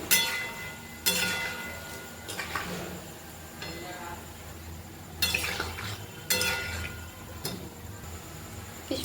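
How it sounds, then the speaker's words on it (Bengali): Palm fruit fritters (taler bora) deep-fry in oil, a low bubbling hiss punctuated by several sharp metallic clanks and scrapes of a slotted spoon against the pan. "লাল লাল করে ভেজে নাও।"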